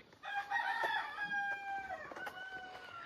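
A rooster in a Lamjung hill village crows loudly and close in one long, drawn-out call, followed by softer clucking from chickens nearby.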